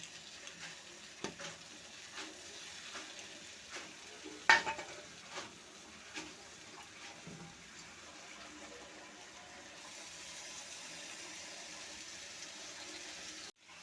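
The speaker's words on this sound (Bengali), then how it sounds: "কাজু বাদাম, পোস্ত আর মিষ্টি জিরার পেস্টটা দিয়ে দিলাম। ভালো করে এটা কষিয়ে নেব।" A paste of cashew, poppy seed and fennel seed sautéing in a pan, a soft low sizzle broken by a series of sharp spatula knocks and scrapes, then a steadier frying hiss toward the end.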